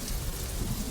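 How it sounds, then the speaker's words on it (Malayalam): Steady rain falls among trees, a continuous dense hiss of drops on surfaces, fairly loud and unbroken throughout with no voices. "നന്ദിനി, ഈ മഴയത്ത് നീ എങ്ങോട്ടാ?"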